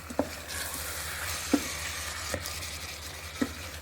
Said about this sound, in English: we are going to fry this mixture for a little bit